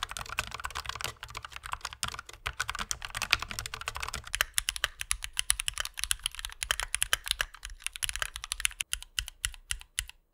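Fast typing on a Logitech MX Mechanical low-profile mechanical keyboard, a dense stream of crisp clicky keystrokes with irregular rhythm, heard close and alone.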